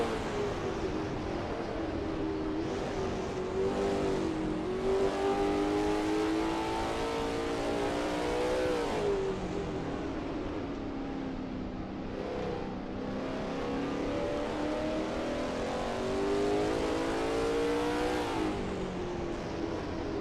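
A Lola T70 MkII Spyder race car in a racing game at Kyalami, its engine droning steadily and loud throughout, with pitch rising and falling through gear changes and corners, and no talk.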